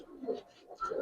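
Giribaz pigeon cooing close by at a pigeon seller's, a brief pair of soft, low coos.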